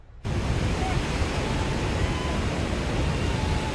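Steady broadband roar of ocean surf at Dog Beach in Del Mar, where dogs ride waves on surfboards; a continuous loud wash of breaking water starts abruptly and holds without pause.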